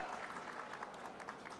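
Applause at a political rally, a dense steady patter of clapping hands from a large crowd, sustained and fairly loud throughout with no pauses.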